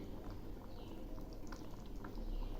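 A Bengali jackfruit and prawn curry with turmeric boils in a pot, giving a soft continuous bubbling with small pops and gurgles, close but quiet.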